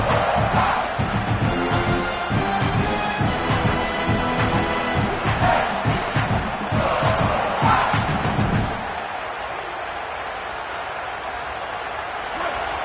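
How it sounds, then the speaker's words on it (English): A football stadium crowd roars steadily as the home defense tries to keep the opponent pinned deep in its own end. The dense, loud roar holds for about nine seconds, then drops to a quieter murmur. "The roar of the crowd trying to fuel this defense to keep them pinned in their own end"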